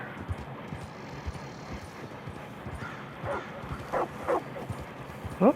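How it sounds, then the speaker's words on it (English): Dog barking in Red Dead Redemption 2, a few short yips at a moderate distance toward the end, over steady hoof clip-clop and ambient game noise. "Oh, heard a doggy."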